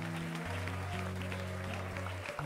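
A congregation at a deliverance service in Nantes claps together in a dense wash of applause, mixed with sustained music and voices.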